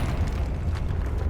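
Confringo spell exploding in Hogwarts Legacy, a short, rumbling burst that blends into a thick, steady roar of low-end game noise with no sharp separate crack.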